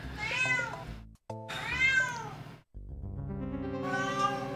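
Close, loud cat meows: two rising-and-falling cries separated by brief gaps, then a longer, drawn-out third call, over faint electronic tones.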